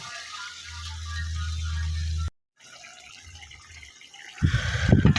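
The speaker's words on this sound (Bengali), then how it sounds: "জল জল করে রান্না করব" Water poured into a karahi of braised snakehead fish for curry: a low steady hum breaks off, then a brief, close splash and gurgle of pouring water rises at the end.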